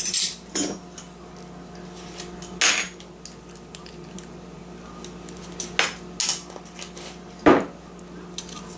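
A spoon stirs a dry blend in a bowl for an apple cake, giving sharp clinks and scrapes against the bowl. The strikes come at irregular moments over a quiet background, with no one speaking.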